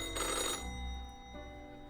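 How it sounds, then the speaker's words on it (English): An old-fashioned telephone bell rings once in a short, bright burst inside a video game, fading into a low hum with a faint second tone after it. "The old-fashioned phone rings again right as you settle in."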